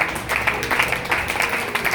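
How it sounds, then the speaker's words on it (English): Church congregation clapping in honor of Jesus during a sermon, a short burst of steady mixed applause from a nearby crowd. "Give a big clap of honor to Jesus."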